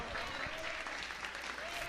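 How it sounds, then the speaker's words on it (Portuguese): A church congregation applauds through a Portuguese-language sermon service, steady dense clapping filling the whole stretch at moderate level with a faint murmur of voices beneath. "Pode aplaudir de coração."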